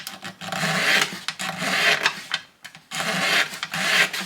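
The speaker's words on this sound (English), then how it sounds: "if I can feel where the lumps of glue are, and just scrape it down" Blade scraping hardened glue lumps off the wood of a 1945 Martin guitar, four rasping strokes of about a second each with short pauses between, close and steady.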